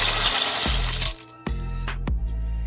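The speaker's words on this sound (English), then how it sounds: "You're going to want to add 12 ounces of penne pasta." Dry penne pasta, about 12 ounces, poured into a pot of cream for one-pot Cajun chicken, a loud rushing rattle followed by a few sharp clattering drops of stray pieces, close up.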